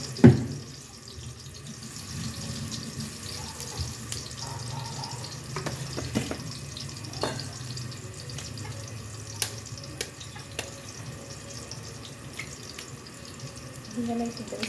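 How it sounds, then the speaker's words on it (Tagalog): Onions sautéing in a pan for vegetable fried rice, a soft continuous sizzle with scattered clicks and stirring scrapes, fairly quiet and close, with a voice talking now and then. "Pasikin natin ang sibuyas."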